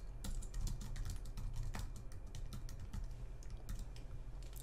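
A computer keyboard clatters with quick, irregular keystrokes as a comment is typed, the clicks close and fairly quiet with no talking.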